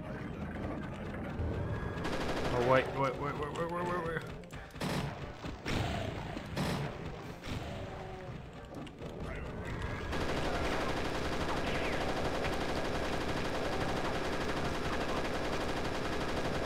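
Heavy gunfire from the Pirate Doom video game: a mix of rapid machine-gun-like bursts and shots with pauses, then a long, steady barrage in the final seconds.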